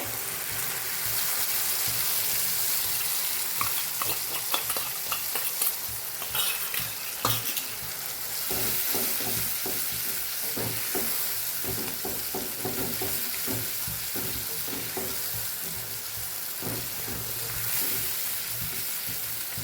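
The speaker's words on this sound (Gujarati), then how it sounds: "એકદમ તેલ છૂટું પડી જાય અને આ મસાલો એકદમ સતળાઈ જાય પાણી બધું બળી જાય ત્યાં સુધી આપણે આ ચટણીને સાતળવાની છે" Coarse Kathiyawadi garlic chutney sautéing in oil, a dense continuous sizzle and crackle with repeated scraping of a spoon stirring through the thick masala, close and steady throughout with no talk.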